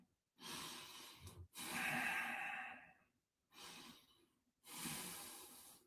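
Slow, deliberate breaths taken during a relaxation breathing exercise, with long drawn inhales and exhales alternating and separated by brief pauses, close and clear with no talking.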